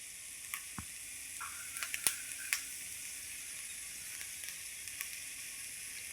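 Soya manchurian with coriander sizzling quietly in a pan as it gets stirred, a steady soft frying hiss broken by a few light clicks and taps from the spoon, no voices.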